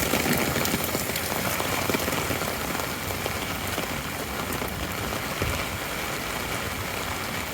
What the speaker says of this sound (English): You know it's raining when the east shops are overflowing.